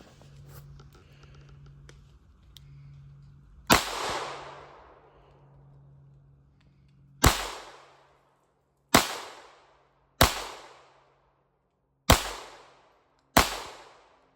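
A GSG Firefly pistol fires hollow-point rounds outdoors: six sharp cracks with ringing decay, the first alone after quiet handling noise, then five more in an uneven series.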